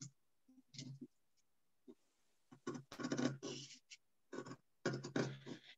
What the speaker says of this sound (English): scissors and you cut with the middle of the scissor